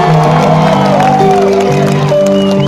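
Outdoor concert crowd at a show on a field in Sawahlunto, cheering and whooping loudly and continuously, with voices shouting and calling over a dense roar.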